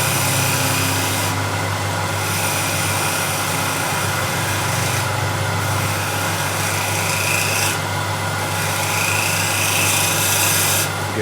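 A hand scraper drawn across wood to dish out a shallow hollow, making continuous rasping strokes in a steady back-and-forth rhythm, with a low hum in the background and no voices.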